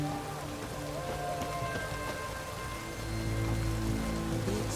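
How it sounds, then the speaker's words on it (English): Rain falls steadily outdoors, a soft, continuous hiss of drops on surfaces at low volume, with a faint low rumble swelling in the background partway through. "It's raining"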